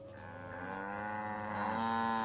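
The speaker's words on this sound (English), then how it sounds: "And sound like cows." Cattle mooing in the video game Assassin's Creed: a long, drawn-out low bovine call that swells steadily louder over a couple of seconds, heard alone with no talking.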